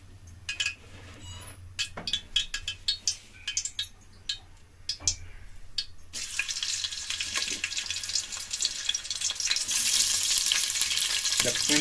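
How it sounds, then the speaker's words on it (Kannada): Chopped capsicum is stirred in a pan, first with a series of separate clinking spoon strokes, then a dense, loud, continuous sizzle of frying as the vegetables hit the hot oil, no voices. "ದಪ್ಪಮೆಣಸಿಕಾಯಿನ ಫ್ರೈ ಮಾಡ್ಕೊಳ್ಳೋಣ"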